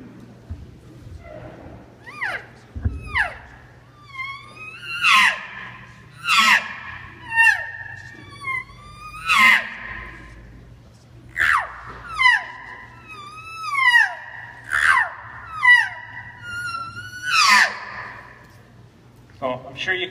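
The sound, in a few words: hunter imitating cow elk scream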